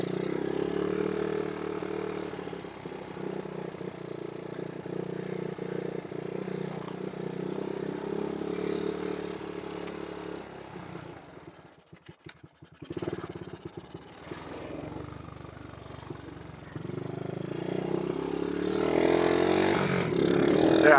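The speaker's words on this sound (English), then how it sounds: "this is a utility quad, so it's not really meant to go fast" A utility quad ATV engine drones steadily during an off-road ride, with clattering and scraping from rough ground. It dips and sputters briefly midway, then swells louder again toward the end. No one speaks.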